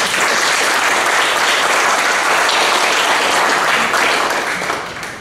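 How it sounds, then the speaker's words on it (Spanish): Large audience at a business training event gives loud, sustained applause, a dense wash of many hands clapping together that continues for several seconds before starting to fade. "saben que yo no puedo empezar sin que ustedes me den un gran aplauso, no a mí, sino a la señora Gladys Mesa"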